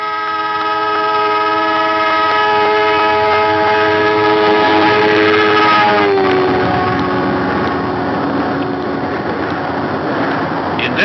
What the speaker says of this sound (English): You have probably noticed that the whistle from a train sounds higher in pitch as it approaches